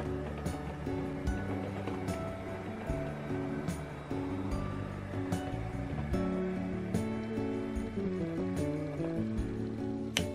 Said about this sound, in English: This is a Southern Region British Rail Class 205 diesel electric multiple unit, built by Eastleigh between 1957 and 1962.